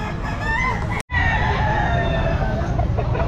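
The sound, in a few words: young rooster (stag) crowing at pet market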